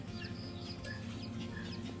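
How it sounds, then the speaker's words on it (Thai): Several day-old baby chicks chirp faintly inside an enclosure. Their thin, scattered peeps sit over a steady low background hum. "เป็นลูกไก่ด้วยนะครับหลายตัวครับอยู่ข้างใน"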